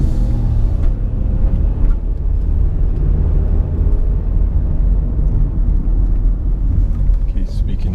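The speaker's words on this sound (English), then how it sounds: "Hey, lowriders galore." Lowrider cars cruising a South Los Angeles street, a loud continuous low engine rumble close by, with someone talking over it.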